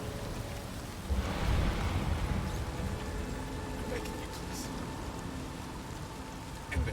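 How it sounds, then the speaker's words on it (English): Rain falls steadily in the video game Detroit: Become Human, a continuous hiss of drops with a low rumble swelling briefly partway through, moderately loud and without voices. "A bunch of rain."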